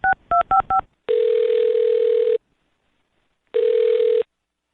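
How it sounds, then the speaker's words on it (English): A telephone call being placed: four quick dial-tone beeps in succession, then two long, loud ringback tones separated by a silent gap, with no voices. "I'll dial her phone number right now"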